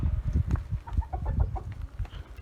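Hens in a backyard coop give soft, overlapping clucks and low murmurs, close by, in a busy irregular patter with short brighter calls mixed in.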